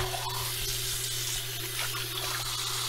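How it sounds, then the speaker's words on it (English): Tap water runs steadily into a kitchen sink to rinse red snapper being cleaned for a Jamaican brown stew, a continuous close splashing rush with a low hum beneath and no talking. "So we're going to throw this water out now, and we'll run some clean water."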